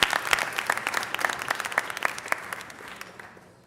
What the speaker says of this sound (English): Let's give Councilmember O'Farrell a round of applause.